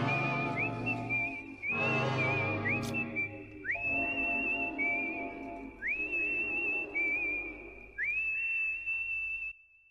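A loud, sustained whistled tune from the hospital scene in Kill Bill, with clear wavering notes and rising slides into each phrase over a dark orchestral backing that swells and then drops away.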